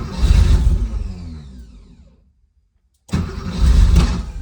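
A car engine cranks and catches on a cold start, revving loudly, then cuts to silence for about a second before the engine roars back to life and runs at a strong, steady idle nearby.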